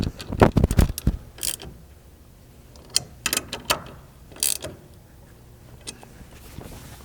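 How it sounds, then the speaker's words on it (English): Metallic ratcheting clicks from a 1/2 inch wrench snugging down nuts on a pickup roof rack, coming in short close bursts with quiet pauses between them. "Just gonna go ahead and snug these up for now so that it doesn't wobble around on me. I'm gonna be using a 1/2 inch wrench."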